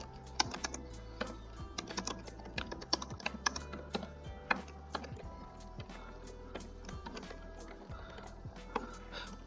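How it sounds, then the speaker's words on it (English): Steady typing on a computer keyboard during Python calculator coding, with quick irregular clicks and occasional heavier keystrokes, close and fairly quiet, with no talking. "Okay, then I will similarly type for the second number as well."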